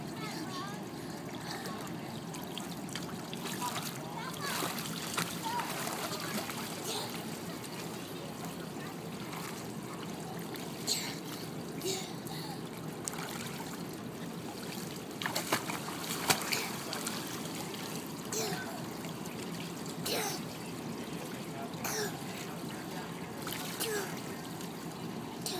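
A child swims with head underwater in an outdoor pool in summer, giving continuous soft splashing and water churning, with small irregular splash bursts throughout, close by, and people talking now and then.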